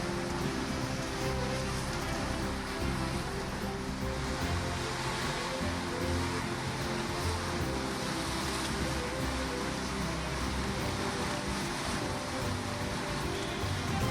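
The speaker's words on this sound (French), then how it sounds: "un petit gros plan là-bas parce que il y a des magnifiques vagues là" Ocean waves break steadily along a cold, rainy coast, a continuous broadband roar of surf and falling rain with no pauses and no talk.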